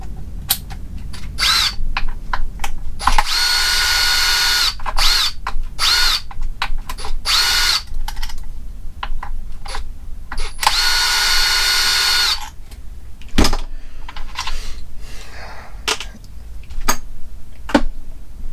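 A power driver backs out the motor faceplate screws on an Arrma Limitless V2 RC car, with repeated loud whirring bursts of varying length separated by short pauses and small clicks, close up.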